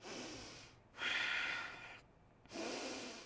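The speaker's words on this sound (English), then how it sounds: "3 full breaths." Deep, full breaths during a yoga practice, a few long audible exhales and inhales rising and falling close by, with brief quiet gaps between them.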